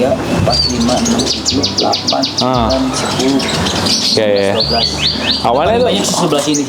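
An oriental magpie-robin (murai batu) chirps and whistles in bright, repeated phrases close by, nearly continuous, while a person counts and talks over the birdsong.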